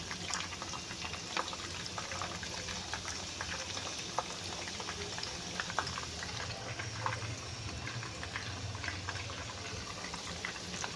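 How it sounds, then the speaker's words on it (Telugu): Large pieces of spiced chicken pakodi fry in hot oil, giving a steady, dense sizzle and bubbling with scattered crackles and pops throughout, close and even. "ఆయిల్లో పెద్ద పీసులు అయితే ఉడుకుతున్నాయండి"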